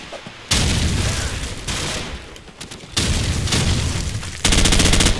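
Loud, close gunfire and a grenade blast in Call of Duty 4, with several sudden bursts of shooting and explosive impact. Each one hits hard after a quieter gap, and the final burst crackles rapidly.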